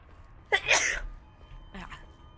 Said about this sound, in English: I'm probably gonna sneeze.